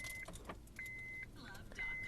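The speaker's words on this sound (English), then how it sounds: "I'm going to turn on the car so you can see the instrument cluster." A 2010 Honda Fit Jazz GE8 being switched on, with faint keys jingling, repeated steady electronic chimes, and soft clicks inside the quiet cabin, heard at low level.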